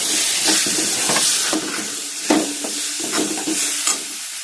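Spices sautéing in a pan with capsicum and tomato just added, heard as a loud continuous hiss and sizzle broken by intermittent stirring scrapes and clatters, close up and with no voices.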